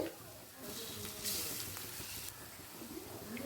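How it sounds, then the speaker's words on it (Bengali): A spoonful of ghee sizzles in a pan with onion and bottle gourd peel, a soft hiss with bursts of frying and stirring, fairly quiet throughout. "এক চামচ ঘি দিয়ে দিচ্ছি"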